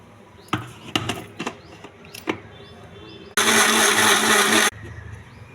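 A mixer grinder whirs loudly for just over a second while blending a drink of roasted peanuts, sugar and cardamom powder, with clunks and taps of handling before it and after it.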